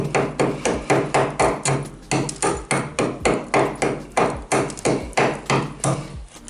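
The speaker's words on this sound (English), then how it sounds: "I'll need the hammer just to hit" Rapid, steady hammer blows strike plaster and tiles up close, over a dozen loud impacts in an even rhythm with a brief pause midway.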